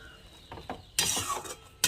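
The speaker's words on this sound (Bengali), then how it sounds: "একটুখানি জল দিয়ে দিলাম, দিয়ে আবার আমি ভালো করে নাড়াচাড়া করছি।" A spoon clinks and scrapes in a pan while cauliflower manchurian mixture is stirred with a little added water, producing a few sharp metallic knocks and bursts of stirring close by.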